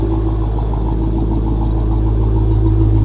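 Mustang or Dodge Challenger Redeye V8 idling with exhaust valves open, a loud, steady deep rumble close by, continuous with no talk over it.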